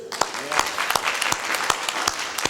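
Audience at a community listening session in Minneapolis clapping hands together, a moderate scatter of distinct, fairly sharp claps with some overlapping, heard at mid-distance over a low room murmur.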